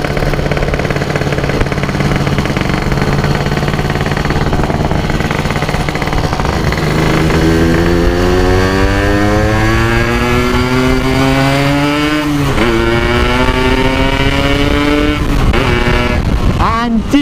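A Yamaha RX Special 115cc two-stroke motorcycle fitted with an Altek exhaust is ridden hard, its loud, raspy engine revving steadily upward through the gears with a brief dip at each shift, close and continuous.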